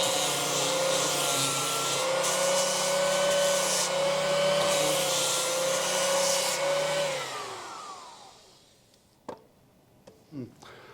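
A floor machine fitted with FLIP VFR rings runs with a loud steady whine and hum, then spins down and stops, followed by a few faint knocks in near silence.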